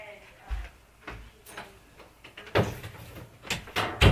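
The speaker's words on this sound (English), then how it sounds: "Hold on, let me shut this door while you think about that." A door swung shut indoors at home, giving a few dull knocks and thuds spread over several seconds while people talk nearby.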